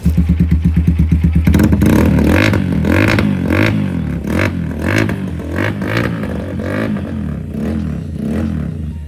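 A 250cc carbureted sport bike with an Akrapovic exhaust, loud and close, with rapid revving pulses at first, then repeated throttle blips rising and falling in a deep, smooth exhaust note.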